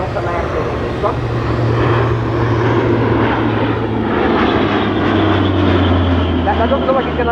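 A French Air Force CASA CN-235 twin-turboprop at RNZAF Ohakea flies a simulated runway approach and overshoot. Its propeller drone is loud, steady and droning throughout, and someone talks over it.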